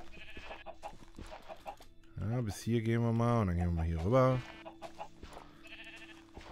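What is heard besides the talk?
sheep bleating in the video game Minecraft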